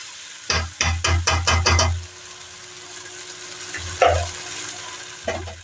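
Drained sago pearls get stirred in a pan over a low flame, a quick burst of close scraping strokes followed by quiet, then a few isolated scrapes.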